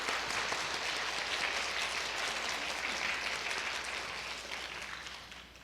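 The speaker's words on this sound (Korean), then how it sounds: "크게 한번 박수 한번 보내주시기 바랍니다." Audience applause at a Korean research administration conference before a keynote lecture, a steady, fairly soft wash of many hands clapping in a hall that fades slightly toward the end.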